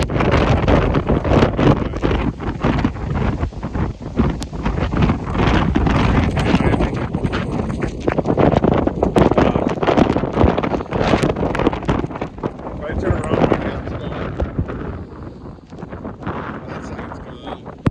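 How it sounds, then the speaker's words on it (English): Roaring hurricane-force wind from Hurricane Sally, around 70 mph, buffets the microphone in a loud, continuous rush with gusty surges throughout, amid downed trees and debris, with light rain falling. "It's probably 70-mile-an-hour winds right here."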